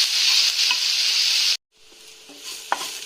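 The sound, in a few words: grated Indian gooseberry sautéed with turmeric and salt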